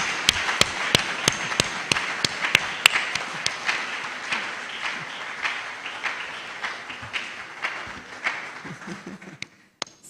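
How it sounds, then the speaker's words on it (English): Applause from the audience at an inaugural lecture: sharp, separate claps from a modest crowd, strong at first, then thinning and fading out toward the end. "Can we give another round of applause"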